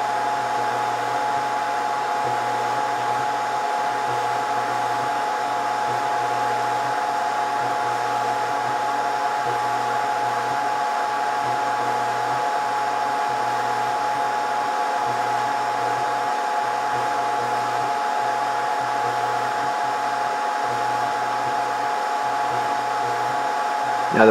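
Upper hot-air heater of a Scotle IR 360 dual IR and hot-air rework station blowing steadily, a constant close whooshing airflow with a faint tonal whine and a low pulsing hum, running unbroken throughout.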